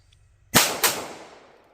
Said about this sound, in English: we'll just bear down and shoot a couple